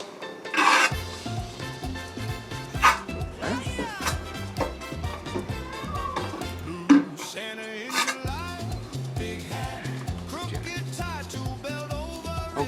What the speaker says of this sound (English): I'm simply going to lay a little compound on my trowel